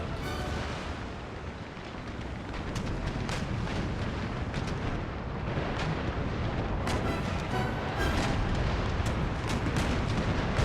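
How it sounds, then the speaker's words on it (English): A warship's cannon broadside in the video game Empire: Total War: a continuous, thunderous roar of massed gunfire with overlapping booms and crackling bursts, loud and dense throughout the clip, with no voices. "she's back, firing a broadside at the Peacefield, who's at a very bad angle"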